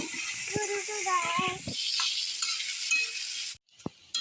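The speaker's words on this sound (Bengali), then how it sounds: "পেঁয়াজ কুচি ভেজে নেবো বেরেস্তা।" Chopped onions frying in hot oil for beresta, the crisp fried onion for chicken biryani: a steady bright sizzle throughout, with a voice heard briefly at first and a short pause near the end.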